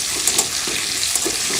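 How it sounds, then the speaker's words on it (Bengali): Eggs frying lightly in a pan on a gas stove, a continuous close hissing sizzle with small crackles and occasional stirring scrapes, no talking. "আমি ডিমগুলো একটু হালকা ভাজি"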